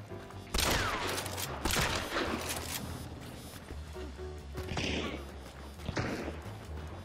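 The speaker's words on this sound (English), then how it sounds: "They're shooting." Video game gunfire: a series of sharp, close shots and heavy thumps in irregular bursts, with fainter distant cracks between them.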